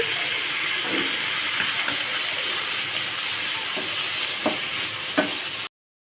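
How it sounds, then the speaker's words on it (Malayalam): Chicken gravy is stirred into chopped kothu parotta in a hot pan, giving a steady close sizzle and hiss with occasional scraping clinks of the spatula, no talk, ending abruptly in silence. "ചിക്കൻ്റെ ഗ്രേവി എടുത്ത് വരിക എന്നിട്ട് നല്ലതായിട്ട് ഒന്ന് മിക്സ് ചെയ്ത് കൊടുക്കണം"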